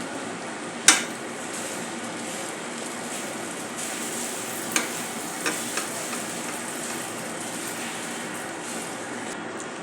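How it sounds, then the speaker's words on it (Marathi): A bread slice fries in butter in a pan with a soft, even sizzle throughout, broken by a sharp clack near the start and a few light utensil taps later. "आता यामध्ये आपल्याला हा एक स्लाइस शेकून घ्यायचा आहे अशा प्रकारे"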